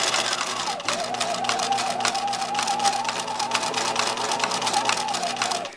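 Bernina 1008 sewing machine sewing a buttonhole, a rapid even rhythmic needle clatter that keeps going at close range, with a slight speed change early on and no voices.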